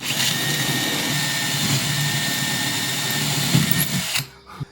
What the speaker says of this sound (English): I was kind of thinking about it while I was drilling those